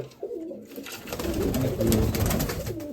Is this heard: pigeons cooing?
yes